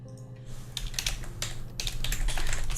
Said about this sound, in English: So what if we type in sister, Hannah's sister.